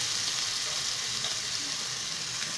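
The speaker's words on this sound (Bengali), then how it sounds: "এবার এর মধ্যে আমি দেব চারটে একটু বড় সাইজের রসুনের কোয়া" Garlic cloves and slit green chilies frying in hot oil give a continuous, even sizzle at moderate level, close and unbroken, with no voices.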